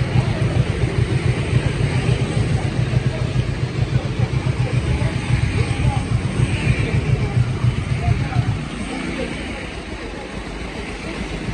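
A 2017 Kawasaki Z300 ABS motorcycle idles nearby with a smooth, steady low throb, the even pulsing holding for several seconds before dropping to a softer, quieter rumble near the end.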